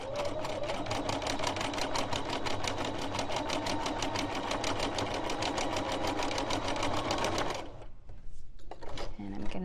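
A sewing machine stitches free-motion embroidery of words in a rapid, steady needle rhythm close by for most of the stretch, then stops, leaving a few light handling clicks and rustles.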